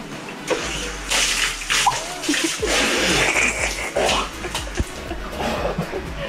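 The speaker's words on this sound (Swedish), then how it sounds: "Nu ska Edwin få en kalldusch här." A cold shower at a spa runs in irregular bursts of water splashing onto a person and the floor nearby, spraying and sloshing close up and fairly loud.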